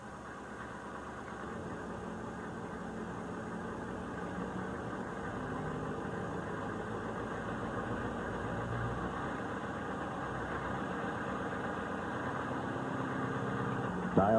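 HMMWV M998 engine running steadily at a raised 1,000 RPM, a continuous moderate mechanical drone with faint knocking texture and no voices.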